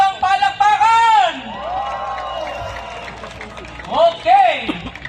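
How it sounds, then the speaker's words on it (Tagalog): A crowd at a science fun run cheers and whoops with scattered applause, with loud shouting swells at the start and again near the end and a softer murmur in between. "Isang ang malakas na sigawan at mahabang palakpakan!"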